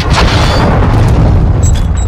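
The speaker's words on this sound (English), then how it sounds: "Hostile cruise missile launched." Cruise missile blast in Call of Duty Modern Warfare 2 ranked multiplayer: a loud, sustained booming explosion with heavy low rumble and crackling debris filling the whole stretch, with no talking over it.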